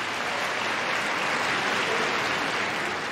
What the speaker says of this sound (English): Big round of applause for the pups doing their bit.